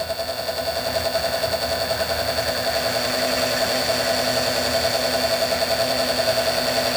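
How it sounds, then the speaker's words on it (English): A lathe runs at a modest speed while dog point grub screws are being made, giving a steady, even mechanical hum with a constant tone that holds close and unchanging throughout. "you don't need the lathe running really fast"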